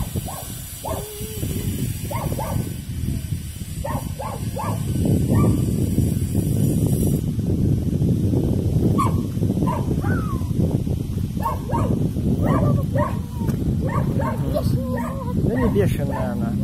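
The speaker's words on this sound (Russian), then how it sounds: "Вон там еще одна собака." A dog on a village street in Anapa barks, yips and whimpers repeatedly at close range, with people talking over it throughout.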